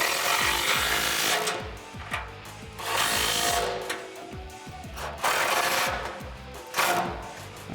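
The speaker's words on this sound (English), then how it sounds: "Grab your 18 socket and wrench and tighten these guys down." A ratchet wrench with an 18mm socket tightens bolts on a RAM 1500 winch front bumper, making repeated bursts of ratcheting clicks and metallic rubbing close up, separated by short pauses.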